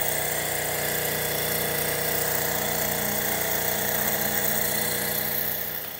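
A Stirling engine runs on the heat of a fire and turns a generator to make electricity. It gives a steady, loud mechanical whir with a rhythmic rattle, constant throughout and alone, fading slightly at the very end.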